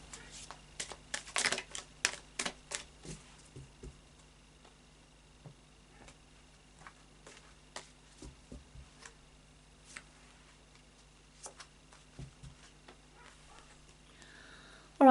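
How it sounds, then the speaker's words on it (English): A deck of oracle cards is shuffled by hand, sharp dry riffles and taps in quick bursts at first, then sparser soft clicks in a quiet room. "another couple of shuffles."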